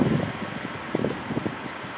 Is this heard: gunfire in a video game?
no